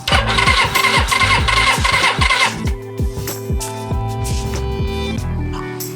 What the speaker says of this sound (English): This is the first time I've ever started this engine myself.